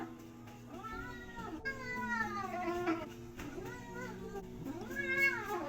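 Domestic cat meowing softly in a quiet indoor setting, several drawn-out meows spread across the stretch, close and fairly faint, with low background noise and no talking.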